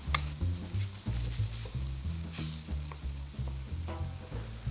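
An egg frying in a pan alongside garlic shrimp and noodles sizzles steadily, joined by a faint rhythmic scraping and stirring throughout.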